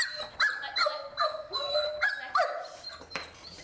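German Shepherd being groomed lets out a string of close, high-pitched whines and yips mixed with short barks, vocalizing in quick bursts throughout with no talking.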